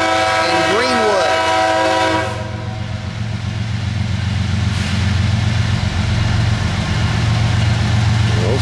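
A train horn sounds briefly, then a CSX mixed freight train led by two ES44AH locomotives rumbles and grinds along the tracks while accelerating, with a deep, steady engine drone, loud and nearby.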